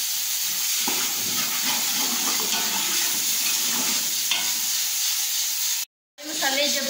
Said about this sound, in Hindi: इन तमाम मसालों को हमने अच्छे से भून लेना है।